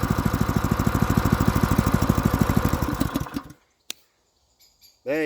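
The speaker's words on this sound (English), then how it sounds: "That is how a brand new Honda clone engine starts." Brand new Honda GX clone small petrol engine runs with a steady, rapid chugging beat for about three seconds, then cuts out; a sharp click and brief noises follow before a second loud engine burst at the end.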